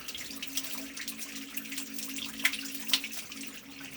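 Water pours into a tank until it overfills, running in a soft steady trickle with a low hum beneath and two brief splashy drips standing out near the end.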